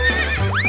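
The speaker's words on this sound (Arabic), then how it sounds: "أوه، حصان." A horse neighs at a farm, a short wavering whinny rising and falling over a low steady hum, close and fairly loud.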